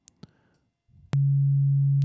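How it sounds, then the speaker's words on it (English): Access Virus TI synthesizer oscillator using FM, with oscillator 2 set to a sine wave, gives a sudden loud, steady pure tone that holds unbroken after a few faint clicks. "both of them take the entire output of oscillator 1 to modulate the frequency of oscillator 2"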